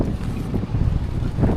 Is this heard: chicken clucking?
no